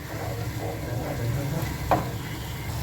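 Tomato and onion chutney fries in a pan with a steady, close sizzle, broken by a brief scrape or clink of a stirring utensil partway through, with no talking.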